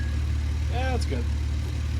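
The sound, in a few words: skid steer engine running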